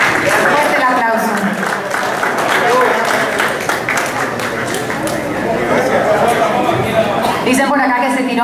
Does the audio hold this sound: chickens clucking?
no